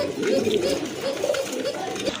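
Soft cooing of Rajgolla pigeons, a low rolling murmur repeated through the clip, close by with a steady background hum.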